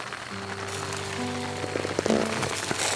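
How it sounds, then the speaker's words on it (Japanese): Heavy rain at the Kurasako Onsen campsite in Kyushu, a steady close patter and drumming on surfaces with a low droning tone underneath, no voices. "雨が、しばきの雨が降ってきましたけど、やばいやん、この雨。"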